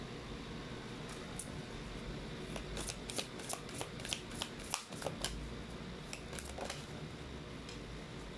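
Tarot cards shuffled and drawn by hand, a run of quick riffling flicks and soft slaps bunched in the middle, close but faint over quiet room hum.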